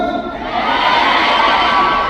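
A packed crowd at a K-pop concert screams and cheers in a loud, unbroken roar of high-pitched shouting.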